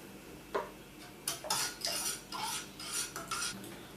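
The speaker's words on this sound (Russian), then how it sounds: "Очень хорошо молоко перемешиваем" A spoon stirs milk in a pot or jar while making homemade yogurt, giving a series of close metallic scrapes and clinks in an uneven rhythm, with no voices.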